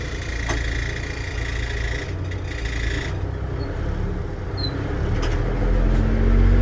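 A Cummins diesel engine on a machine at an equipment auction idles with a steady low rumble that swells slightly toward the end.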